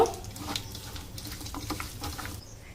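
Hands squish and rub turmeric, cumin, coriander, Kashmiri chili powder and salt into raw biryani meat, making soft, irregular wet squelches and patters up close at a low level, with no talking.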